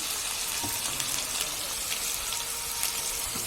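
Ivy gourd and coconut frying in a pan, a steady broadband hiss and sizzle that holds evenly throughout, close and continuous with no talk.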